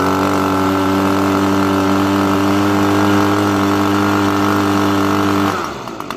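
Echo PB250 leaf blower two-stroke engine running steadily while warming up, a loud sustained drone with a slightly rough, under-revving tone that drops off abruptly near the end.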